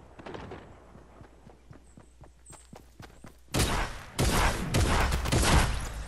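Shotgun fire in Fortnite: a run of sharp, separate shots like footsteps or impacts at first, then a dense, loud burst of overlapping blasts and crashes in the second half.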